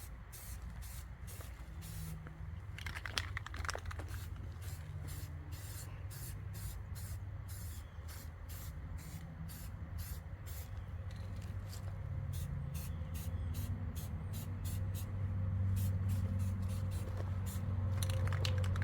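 A rifle is spray painted with a general coat, a steady hiss of aerosol spray broken by rapid repeated short bursts, close by over a low rumbling background.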